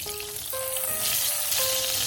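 Butter sizzles in a pan that still holds cooked sausage, a steady crackling fry at moderate volume with faint thin whistling tones over it and no talking.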